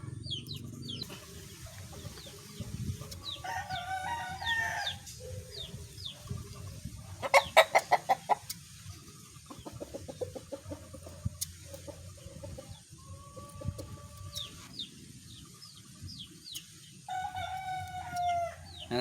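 Chickens clucking and a rooster crowing nearby during feather trimming of a fowl, with scattered calls and short bursts over a low steady background hum.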